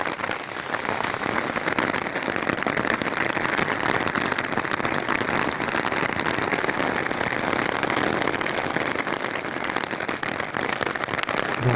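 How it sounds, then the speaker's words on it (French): Heavy thunderstorm downpour drums steadily and densely on a surface nearby, a continuous loud wash of rain with no pauses. "C'est une averse orageuse, sans plus."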